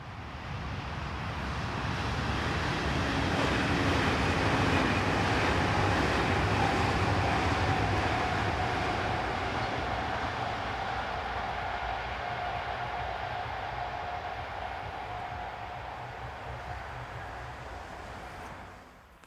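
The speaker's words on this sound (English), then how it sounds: "The next train to come along continues our mini ICE fest with another Class 411 working the" A Class 411 ICE train running from Berlin to Frankfurt passes on the busy mainline between Fulda and Bad Hersfeld, a loud, sustained rushing roar that builds quickly, holds for many seconds, then eases away.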